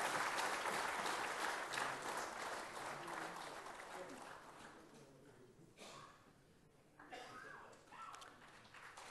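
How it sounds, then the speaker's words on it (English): Applause from the audience at an agricultural research foundation day award ceremony, sustained clapping that starts strong and gradually thins, fading with scattered claps and faint murmurs, heard from some distance. "Ladies and gentlemen, please give the team led by the Honorable Chief Minister a big round of applause."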